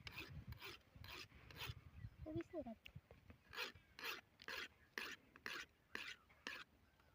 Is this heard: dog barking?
no